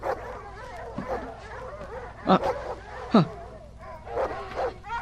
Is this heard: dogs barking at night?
yes